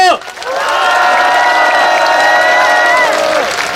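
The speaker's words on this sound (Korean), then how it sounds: "힘찬 연대 박수 한번 부탁드립니다." A large crowd of thousands at an outdoor Sewol ferry disaster memorial cultural rally claps and cheers steadily, loud and dense, with sustained tonal shouting or chanting layered over the applause throughout.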